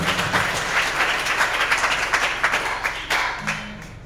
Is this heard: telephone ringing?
no